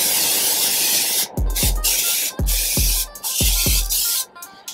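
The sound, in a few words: olive oil cooking spray can spraying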